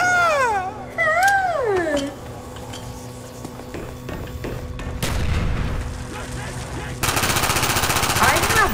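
Rapid automatic gunfire bursts loudly in Call of Duty: Black Ops Zombies on the Kino der Toten map, with sustained rattling volleys near the end, mixed with swooping game sound effects and a brief vocal sound.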